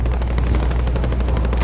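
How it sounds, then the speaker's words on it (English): Friendly precision airstrike in Call of Duty Warzone lands as dense, continuous rapid-fire gunfire and heavy rumbling blasts, loud and sustained throughout with no pauses. "Friendly precision airstrike"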